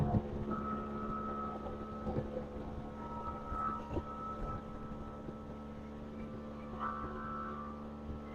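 Outboard engine on a neglected center console boat pulls away across open water, a steady loud motor drone with wind buffeting the microphone and slight surges in pitch as it gets underway.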